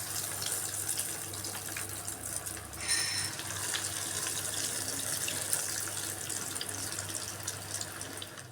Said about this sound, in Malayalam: എന്നാൽ നന്നായി ചൂടാകുമ്പോൾ എണ്ണയിലേക്ക് ഇതിടുക കേട്ടോ.